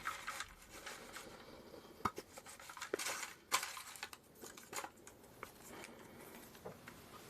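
Small box of folded paper slips being shaken, soft scattered rattling and papery patter with a few sharper clicks, faint and irregular.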